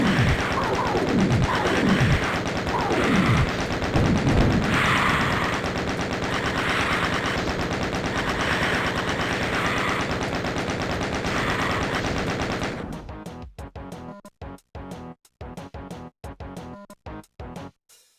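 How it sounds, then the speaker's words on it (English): Rapid BFG blasts and heavy gunfire tear through monsters in a Doom level, dense and loud for most of the stretch before breaking into sparse, sharp shots with silent gaps near the end. "Fire a BFG shot and take out most of what you can."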